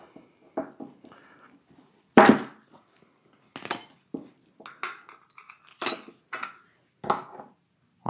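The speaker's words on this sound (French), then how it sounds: "Donc avec la clé de 11, on se met sur l'écrou. Avec la clé de 10 et on desserre." Metallic clinks and taps of 10 mm and 11 mm wrenches working a nut loose, irregular short knocks with pauses, close and fairly clear with no talk.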